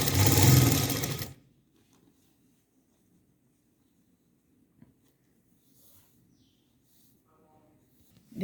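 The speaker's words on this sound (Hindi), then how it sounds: "अब हम इसके ऊपर एक बार सिलाई लगा देंगे इस तरह से" A sewing machine runs in one loud, steady burst of stitching across organdy fabric while sewing a small doll dress, then cuts off, leaving near silence with faint handling noises.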